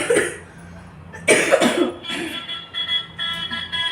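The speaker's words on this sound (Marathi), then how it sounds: "तर खोकला तर खूप येतोय" A single sharp cough bursts out near the mic, followed by a few rougher throaty coughs and some faint background noise.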